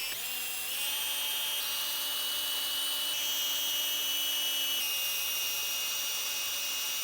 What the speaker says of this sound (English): we are going to drill out these 5 plastic rivets that are holding on the OEM badge